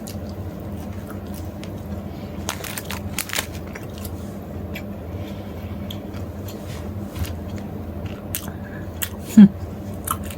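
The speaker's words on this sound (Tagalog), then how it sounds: "First bite and first taste." Close, crunchy biting and steady chewing on a Fujipan ham and egg snack sandwich with soft bread, a continuous mouthy mastication texture with a few sharper crunches, no talking.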